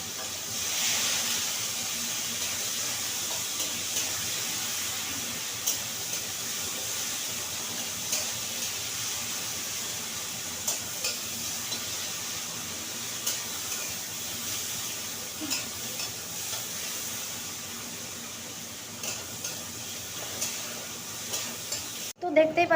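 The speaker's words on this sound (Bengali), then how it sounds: "তো দেখতেই পাচ্ছ আমার পেঁয়াজ ভাজাটা কমপ্লিট হয়ে গেছে" Onions frying in a pan, a continuous close sizzle and hiss with intermittent scraping clinks as they are stirred, ending in a few louder knocks.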